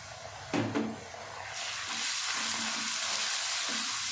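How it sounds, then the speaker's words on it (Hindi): Ginger and garlic frying in hot oil in a clay pot, a steady soft sizzle with a couple of brief stirring scrapes near the start, fairly quiet and without speech. "2 मिनट हो गए अदरक लहसुन को हमने भून लिया"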